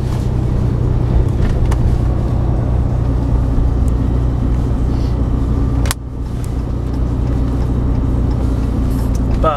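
A 2014 RAM 3500 Dually Laramie Mega Cab with a Cummins diesel engine driving on the road, a constant loud low engine drone with road noise inside the cab, briefly dipping around a shift before settling back to a steady hum.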